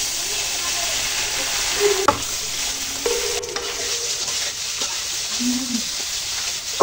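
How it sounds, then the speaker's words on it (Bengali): Taki fish frying in very hot oil in a kadai, a loud continuous sizzle with occasional sharper spatters and a few brief utensil knocks, no talking over it. "মাছগুলো ভেজে নেব।"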